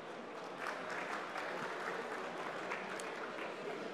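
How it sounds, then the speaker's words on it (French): Steady applause from a conference audience at the Paris Air Lab during the Paris Air Show, a dense, even wash of clapping that fills the whole stretch at moderate level with no one talking over it. "Vous pouvez l'applaudir."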